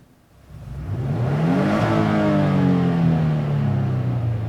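A 2020 Nissan Frontier pickup truck engine rises from a quiet idle into a smooth rev, its pitch climbing and then holding steady, close by.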